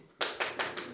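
Several sharp claps ring out at a rap battle league event, four quick distinct hits in an even rhythm, close and fairly loud.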